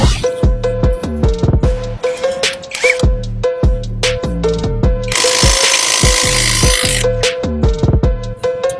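A KEELAT 420 Nm brushless impact wrench loosening a pickup truck wheel nut gives loud, rapid bursts of ratcheting hammer blows, starting and stopping repeatedly, with one longer sustained run near the end.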